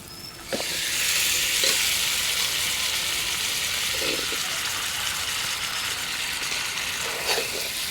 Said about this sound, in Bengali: এখন মাংস ভাজা আর আলু ভাজা একসাথে দিয়ে দিব।